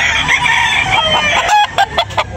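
A handsome rooster offered for sale at a fowl market in Tabunok, Talisay, Cebu lets out a single loud, drawn-out crow, close by, over a busy market murmur.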